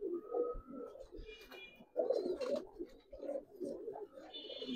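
Giribaz pigeons coo in a sequence of throaty, rolling calls, close and moderately loud, with brief quiet gaps between bursts.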